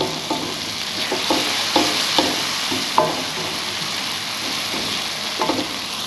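Chickpea dal roasting in a pan: a steady dry sizzle with regular scraping strokes of a spoon stirring it, about one every half second, close and alone.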